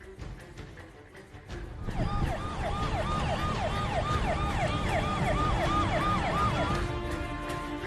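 A wailing ambulance siren cycles up and down repeatedly over rumbling traffic noise in a traffic jam, starting after a short lull and staying loud.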